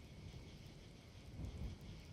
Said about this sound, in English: Ah, rain. Skyrim weather at its finest.